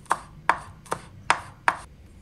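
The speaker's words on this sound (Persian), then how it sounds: "اینم یه دسته گشنیز تازه است که ساتوریش میکنم" A cleaver chopping a bunch of fresh coriander on a board: five crisp, evenly spaced chops about every 0.4 seconds, close and distinct with no talking.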